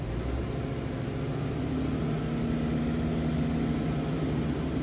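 An ice cream van engine idles steadily with a continuous low drone, held close and loud without pauses, while a 2000W power inverter runs off it.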